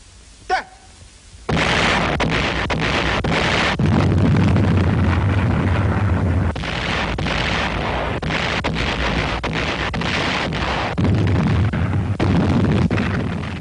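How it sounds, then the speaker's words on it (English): Archival sound of the Japanese bombardment of the Corregidor island fortress in 1942: a sharp pop, then sustained thundering artillery blasts and rumbling explosions that swell and surge loudly throughout. "the Japanese bombarded the island fortress with every weapon at their command."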